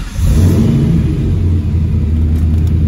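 A 2-valve Saleen V8 fitted with new louder mufflers, started inside a shop, rumbles loudly up close in a deep, steady idle with slight surges.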